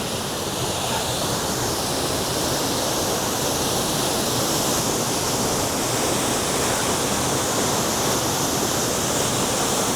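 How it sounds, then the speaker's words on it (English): Santa Rita Cascada waterfall roars as a steady, loud, continuous broadband rush of falling water, close by and unbroken throughout with no voices. "And here is the waterfall."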